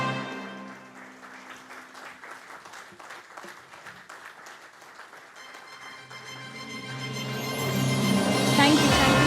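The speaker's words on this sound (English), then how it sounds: "let's keep clapping" Audience clapping at a company bell-ringing ceremony, steady applause under music and a loudspeaker voice, swelling louder toward the end as the music builds.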